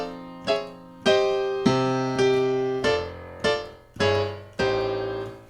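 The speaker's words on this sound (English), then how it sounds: "the two chords that we're going to look at today are first inversion and second inversion, and they sound like this." Piano chords in a gospel style, moving through first- and second-inversion voicings: eight or so struck chords in a steady sequence, each ringing briefly before the next, played alone.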